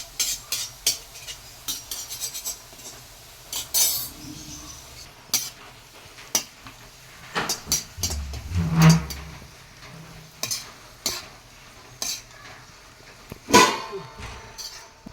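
Onions frying in oil in a pan for Kerala ghee rice, stirred with a utensil: repeated scraping and clinking strokes over a soft, steady sizzle, close and moderately loud.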